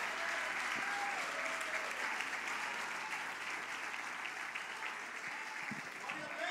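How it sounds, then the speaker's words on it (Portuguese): A church congregation applauds steadily throughout, a thick, even wash of many hands clapping at moderate volume, with occasional low thumps and faint voices underneath. "Dê um aplauso ao Senhor pela palavra de Deus."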